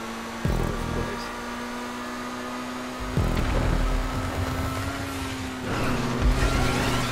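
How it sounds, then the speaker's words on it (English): A car driven in the video game GTA 5 Online, its engine droning steadily with tone shifts as it changes gear, loud and continuous with no talk over it. "I tell you what though, I'm really enjoying driving the car."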